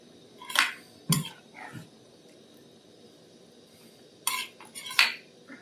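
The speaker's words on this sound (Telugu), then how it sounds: "ఇప్పుడు మూత పెట్టేసాం" Metal clinks and clatters from a pot of fish curry as the lid goes on, a few sharp knocks near the start and end with quiet in between, no talking.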